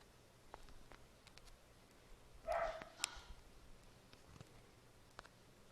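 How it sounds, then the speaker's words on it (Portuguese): A dog in the Minecraft mobile survival game gives a single short bark and whimper midway, faint and brief against quiet in-game background sounds. "Esse cachorro me cala."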